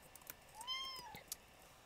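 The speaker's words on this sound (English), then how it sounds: "I don't know if you heard her, but apparently I'm being meowed." A pet cat gives a single drawn-out meow at moderate distance, fairly soft, with a few faint clicks and taps around it.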